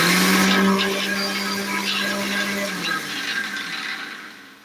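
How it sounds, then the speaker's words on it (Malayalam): A kitchen mixer grinder blends a dalgona coffee mixture, a loud, close, high motor whine that runs steadily, then drops in pitch and fades as it winds down. "നമുക്ക് ഇതിന് മിക്സിയിൽ വെച്ചിട്ട് നന്നായിട്ടൊന്ന് പൊടിച്ചെടുക്കാം"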